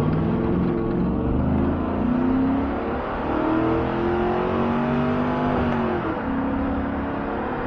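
Vehicle fitted with a 4L80E automatic transmission accelerating hard on the road, engine note climbing steadily in pitch through a long sustained pull, loud and close with no talking.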